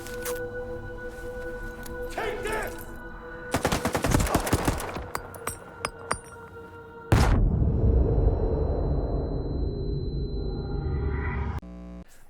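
Handgun fire in the video game STALKER 2: a few sharp shots, then a rapid burst of gunfire, a single loud shot with a long echoing decay, and more shots at the end, over a low ambient background.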